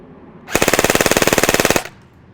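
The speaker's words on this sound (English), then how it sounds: "Let's see what kind of rate of fire we get with a compressed spring." A KWA Ronin 47 airsoft AEG with a compressed spring fires one full-auto burst of just over a second. Its rapid, even mechanical rattle runs at about eighteen rounds per second, loud and close, with no talking.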